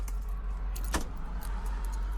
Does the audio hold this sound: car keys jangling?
yes